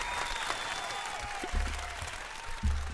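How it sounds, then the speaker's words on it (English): A talk-show studio audience claps and cheers as a guest arrives, the applause fairly faint and steady, with a few low thumps and a voice rising over it. "Give a round of applause."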